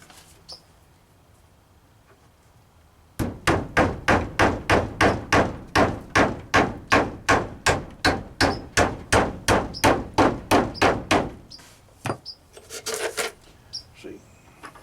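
A hammer drives nails into wood while toenailing a chicken coop repair, a run of about twenty quick, evenly spaced loud blows, followed by a few scattered knocks and scraping.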